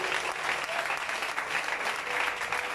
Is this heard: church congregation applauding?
yes